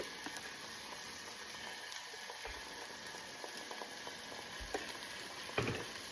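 Three cloves of garlic sauté in a pan with a soft, steady sizzle and a few faint clicks, quiet and continuous with no talk.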